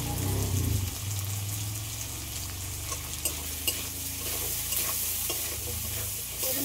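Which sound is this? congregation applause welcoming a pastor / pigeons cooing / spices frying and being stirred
spices frying and being stirred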